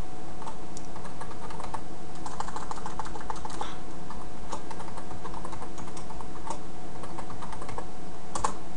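Someone types a password on a computer keyboard, producing a steady patter of close, fairly quiet key clicks that continues throughout with no voices.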